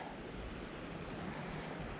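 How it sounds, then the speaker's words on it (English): A river near Seattle rushes past rocks in a steady, dense wash of water noise that stays even throughout, with no voices. "We got this cool river."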